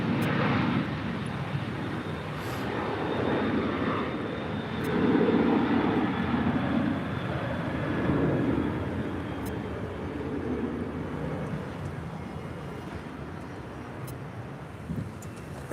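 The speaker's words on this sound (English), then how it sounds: "This departure is American Airlines Flight 1052 departing to Chicago O'Hare on a 737-800." An American Airlines Boeing 737-800 departs LAX on its takeoff roll, a broad, steady jet engine roar that swells slightly in the middle and holds at a moderate distance with no talk.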